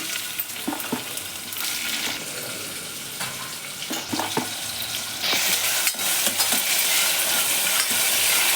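Onion, mustard seeds, cumin, asafoetida and dried red chillies fry in oil in a pan for a vegetable sagu, giving a steady, close sizzle with scraping stir clicks throughout and no voices.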